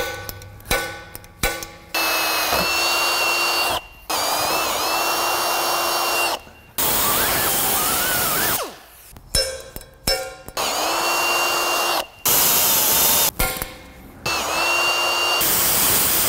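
A power drill deburrs freshly drilled holes for a transmission cooler mount, whirring in repeated bursts of several seconds each, with sharp stops and brief clicks between runs.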